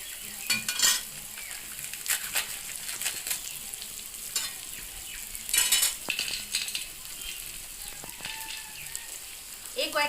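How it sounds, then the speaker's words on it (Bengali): Paneer pieces frying lightly in a pan make a steady sizzle, with repeated clinks and scrapes of a utensil against the cookware. "বন্ধুরা পনির একদিকে ভাজা হচ্ছে"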